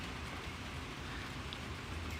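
Rain falling outdoors near a blue dumpster and stacked pallets, a steady soft hiss of drops hitting surfaces, faint and continuous with no talk.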